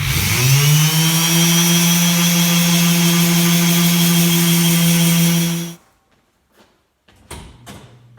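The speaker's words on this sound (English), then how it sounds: "All you need to do is just hold it flat and let the sander do the work." A power sander held flat on a workpiece runs with a loud, steady motor whine and grinding hum for several seconds, then shuts off abruptly, followed by faint handling knocks and rustles.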